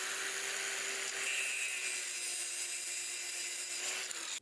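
A taped AN fuel line hose is cut for a fuel cell install in a car, making a steady rasping sawing sound heard close up and alone for several seconds before it stops abruptly.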